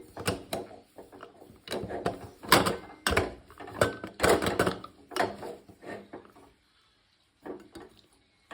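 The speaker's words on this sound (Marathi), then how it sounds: "आपण झाकण लावूया" A lid goes onto a pot of Maharashtrian green gram (mung) usal cooking on the stove. Several irregular metallic clanks, scrapes and knocks sound close and fairly loud, then everything falls silent near the end.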